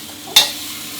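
Garlic chive flowers go into a pan with a little water over high heat, giving one sudden sizzling hiss that quickly tapers off.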